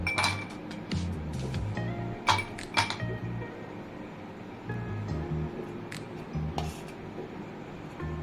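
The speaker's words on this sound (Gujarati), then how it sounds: "હું અહીંયા બરફના ક્યુબ એડ કરી રહી છું" Ice cubes clink and rattle into a glass while a raw mango aam panna drink is prepared, a few bright taps and clatters close by over a low background hum.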